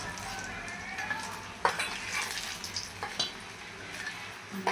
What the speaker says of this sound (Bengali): এইভাবে উলট পালট করে ভেজে নেব